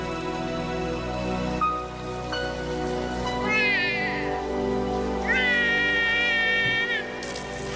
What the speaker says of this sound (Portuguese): A chuva começa a cair enquanto Litten chora.